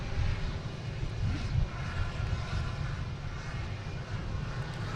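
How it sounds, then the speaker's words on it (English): A Southwest Boeing 737 MAX 8 takes off at Boston Logan, a steady, low, rumbling jet roar that holds evenly throughout with no voices over it. "All right, next takeoff should be Southwest, and it is."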